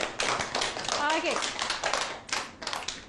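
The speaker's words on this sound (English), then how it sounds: "let's give Putra's group a big round of applause, everyone" Scattered clapping from a class of young pupils applauding a group, quick uneven bursts of hands with a voice briefly heard among them.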